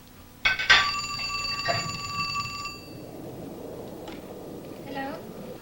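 An old-style telephone bell rings once with a bright metallic trill that lingers and fades, in a staged recreation of a night call, followed by quieter room noise and murmuring voices.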